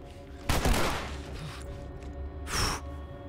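A sharp gunshot sounds in The Last of Us, then a second loud blast follows a couple of seconds later, over low background game noise.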